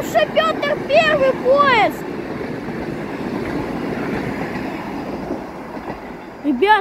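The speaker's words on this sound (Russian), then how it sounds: "Ребята, я словил бывший поезд Петра Первого, вы представляете?" A Moscow metro train (Rusichi model) rumbles steadily along the rails at close range between Kuntsevskaya and Molodyozhnaya, with high tonal squeals near the start and a voice breaking in at the very end.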